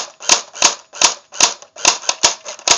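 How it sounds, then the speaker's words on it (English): An AK47-style airsoft gun fires on semi-auto, giving eight sharp, loud, close clicking shots at an uneven pace, with a couple fired in quick succession near the end. "semi-auto doesn't really work if you listen to it"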